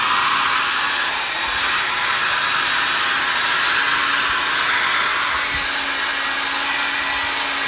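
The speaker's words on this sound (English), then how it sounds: "take your hairdryer and blow the heck out of it" A hair dryer blows steadily at close range, a loud, constant whooshing roar with no pauses, heard alone throughout.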